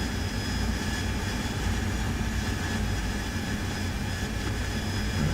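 A Harrier jet engine in the DCS World flight simulator produces a steady, dense roar with a faint high whine throughout, and no voices are heard.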